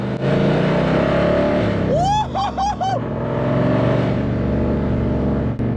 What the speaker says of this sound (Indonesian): kita harus dengar dulu suara mobil ini